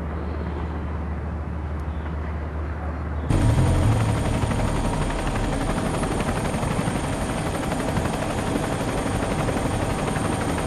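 Aircraft flying over a disaster area: quiet at first, then a loud, steady engine and rotor-like drone cuts in abruptly and holds, close and continuous, with no one speaking.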